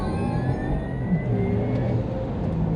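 A Porsche Taycan 4S launches under launch control, giving a steady, rising electric whine over dense road and wind rumble heard from inside the cabin.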